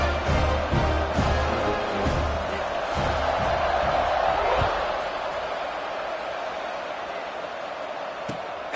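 Stadium crowd noise in the College Football 26 video game after a touchdown and extra point, a loud continuous buzzing roar with scattered thumps early on, easing slightly toward the end.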